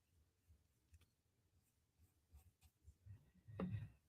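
White charcoal pencil drawing on paper, soft, faint scratchy strokes in short irregular bursts, growing into a firmer, louder scribble near the end, close up with no talking.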